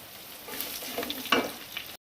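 A sprig of curry leaves drops into hot oil with urad dal in the pan, bursting into a sharp crackling sizzle that swells briefly and then cuts off abruptly.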